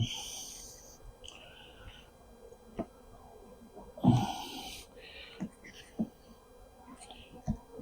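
Honeybees drone around a few hive frames during an open hive inspection, a faint steady buzz with scattered sharp knocks and clicks of handling.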